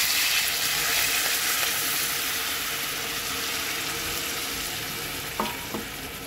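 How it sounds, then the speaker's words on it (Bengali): Water poured into a pan of spiced potatoes frying in oil sets off a loud, steady hiss and sizzle close by, followed by a couple of light clinks of a utensil near the end. "এবার জল দিয়ে দেবো।"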